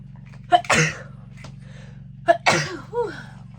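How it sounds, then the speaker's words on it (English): Two sharp sneezes, each with a quick intake before the burst, about two seconds apart and close to the microphone over a low steady hum. "I'm gonna sneeze."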